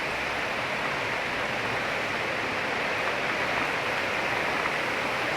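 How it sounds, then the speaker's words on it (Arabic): Heavy rain falls as a dense, constant, even hiss that fills the whole stretch without pause, with no voices. "المطر جامد جدا."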